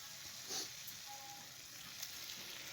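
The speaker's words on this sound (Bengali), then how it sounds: "এর মধ্যে ধনেপাতা দিয়ে ভালো করে নাড়িয়ে চাড়িয়ে নেব।" Vegetable curry with fresh coriander leaves sizzling in a pan, a soft, steady frying hiss with faint occasional stirring, quiet and without voices.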